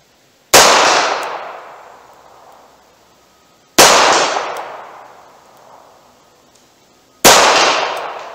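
Three sharp, loud gunshots from a snub-nose revolver fired at a distant steel target, each followed by a long ringing decay, spaced a few seconds apart.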